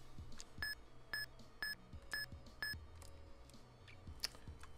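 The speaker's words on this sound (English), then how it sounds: "Eon Timer only beeped 5 times" Eon Timer counting down for a Pokémon Ultra Sun shiny hunt: five evenly spaced, faint, short electronic beeps over a quiet background of low game noise.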